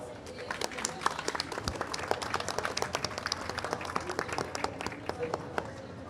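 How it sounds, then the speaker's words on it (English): Audience applause closing a conference panel on deforestation and conversion, a steady patter of many hands clapping at moderate distance, with some voices mixed in, sustained for several seconds. "So let's have a final round of applause for our panel here."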